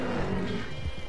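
A horse in Red Dead Online lets out a brief, loud, rough whinny that lasts about a second.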